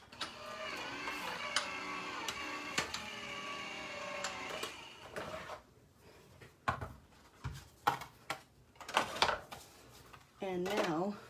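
A card base cranked through a manual die cut machine, giving a steady whirring mechanical grind followed by several clacks and thumps of plates, close and moderately quiet.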